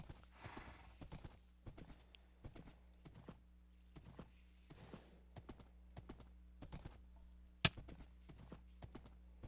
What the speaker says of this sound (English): No, you're not my horse.